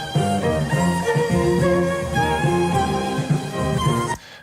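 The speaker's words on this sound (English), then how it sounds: "A nice screaming sort of lead violin sound there." A screaming lead violin line plays solo on a mixed track, with loud sustained bowed notes moving through a melody over a steady rhythmic low part, ending abruptly.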